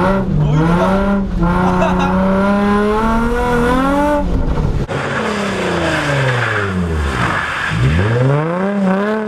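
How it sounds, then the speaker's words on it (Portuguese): A drift car slides through a 360 entry on a cone course, its engine revving hard and rising in pitch while the tires squeal in a long skid, loud and close. "O carro escorregou demais ali, velho"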